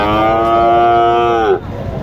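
A heifer at a Bangladeshi cattle market gives one long, loud, close moo lasting about a second and a half, then breaks off into crowd noise with no speech.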